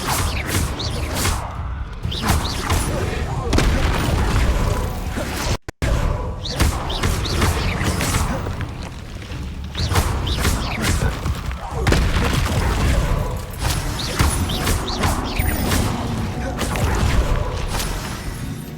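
Repeated Bombarda spell explosions in Hogwarts Legacy gameplay boom and crash in heavy bursts one after another, with thuds and clattering debris under a player's voice.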